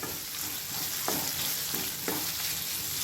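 Onion and a few cashews sauté in a pan while an egg curry is made, giving a steady soft sizzle with two brief scraping stirs of a spoon about a second apart.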